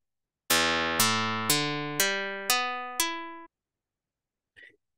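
A guitar string synthesized in Python by physical modeling plucks six notes in a steady rising sequence, each with a sharp attack and quick decay about half a second apart, followed by silence and a faint tiny blip.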